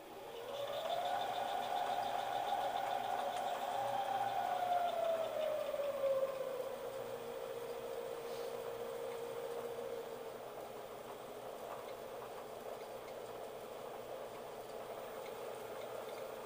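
A Clausing lathe running slowly in back gear and turning in reverse hums steadily with a rising and falling whine, continuous and fairly close, with no voices.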